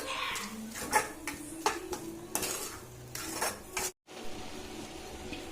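A spoon stirs beetroot halwa with sugar in a pan, giving repeated scraping clinks against the metal at an irregular rhythm over a soft background sizzle, close and fairly quiet.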